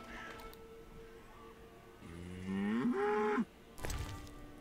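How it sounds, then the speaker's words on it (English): A cow moos loudly in The Witcher video game, a long rising-and-falling bellow near the listener after a quieter lowing, set against a steady game ambience. "I still need to figure out how to get this prize-winning cow to move."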